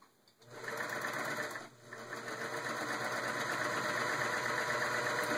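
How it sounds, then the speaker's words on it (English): A serger sewing machine trims and overlocks a fabric edge, whirring loudly and steadily close by after a brief start, with one short dip before it runs on continuously. "It cuts off the edge of the fabric and sews a finished edge onto the fabric."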